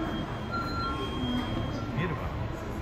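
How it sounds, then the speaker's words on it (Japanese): A JR Class 383 tilting electric train, the Shinano limited express, sits in Nagoya Station with a steady mechanical hum, thin whining tones and faint wheel squeal, while someone talks over the station noise. "振り子式電車だと思うんだよね。"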